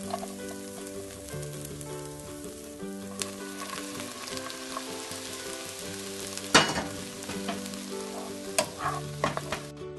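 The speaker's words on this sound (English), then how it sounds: "I'm going to let our garlic simmer for a little bit until it starts to become nice and fragrant" Garlic and onions fry in a pan, a steady close sizzle with occasional sharper crackles and brief stirring scrapes, no voices over it.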